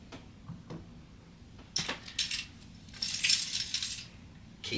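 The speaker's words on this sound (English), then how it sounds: "Keys." A bunch of keys from an everyday-carry kit jingles and clinks close up in two short bursts, the second longer and brighter, with quiet pauses between.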